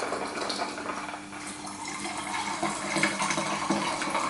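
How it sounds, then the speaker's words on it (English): Lemonade poured into a gin cocktail, a short bubbly stream of liquid splashing and fizzing into a glass, close and moderately quiet, with no voices. "The lemonade's gone in."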